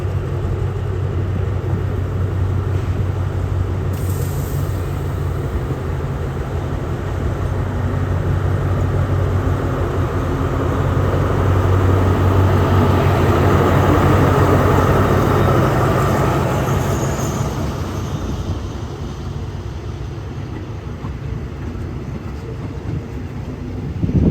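Thai train 201 pulls out of Bang Sue Junction station with a loud, sustained low rumble and roar that swells in the middle and then eases. A brief higher whine sounds early on, and no one speaks.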